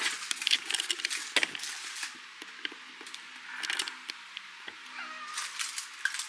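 A cat meows in short, repeated calls close by, mixed with light scratches, taps and knocks in a quiet room.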